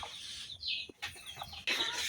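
A hen with a brood of chicks makes a short burst of high, thin peeps and chirps up close, broken by brief pauses and a soft cluck.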